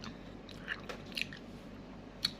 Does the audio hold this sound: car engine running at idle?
no